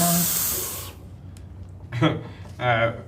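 Espresso machine steam wand releases a loud, steady hiss for about a second while a spoon is cleaned, then cuts off, followed by faint breathy puffs and background noise.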